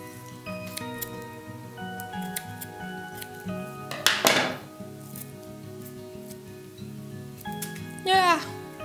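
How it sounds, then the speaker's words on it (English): Scissors snipping through corsage material: a few crisp cuts close up, with a sharp snip near the middle and another near the end. Soft rustling of handling runs between them. "I'm gonna cut a little bit more away."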